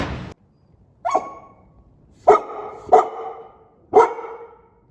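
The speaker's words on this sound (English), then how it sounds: "You want some attention, dog?" A farm dog barks four times, sharp and close, with short gaps between the barks and no other sound behind them.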